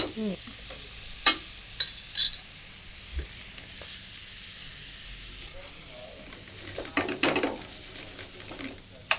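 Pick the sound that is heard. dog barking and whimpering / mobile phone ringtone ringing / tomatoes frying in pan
tomatoes frying in pan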